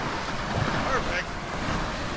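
Ocean surf washes close by a beach bungalow on Koh Rong, Cambodia, a steady broadband rush mixed with wind buffeting the microphone.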